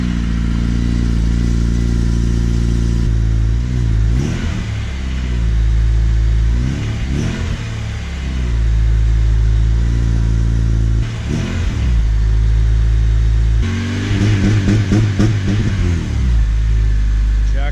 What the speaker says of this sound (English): the stock exhaust obviously is not really that loud, but with a header, it kind of opens it up a little bit